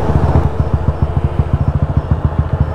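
A new motorcycle's engine idles close by in a steady, fast putter of low pulses, running on its own with no talk over it.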